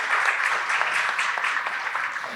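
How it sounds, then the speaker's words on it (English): An audience claps steadily in a sustained round of applause at a talk held at the Toronto Nova Exhibit, fairly even in level throughout and with no voice over it. "Round of applause"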